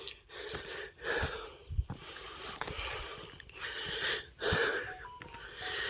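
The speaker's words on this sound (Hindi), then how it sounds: "आपको सांसों की आवाज़ आ रही होगी मेरे" A person breathes heavily and raggedly while climbing a steep jungle slope, with repeated loud wheezing inhales and exhales close to the microphone and occasional rustling.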